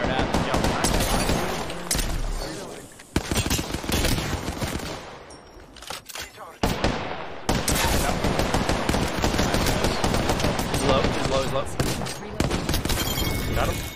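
Rapid bursts of machine gun fire crackle through a first-person shooter game, loud and dense with brief lulls, while players talk over the gunfire.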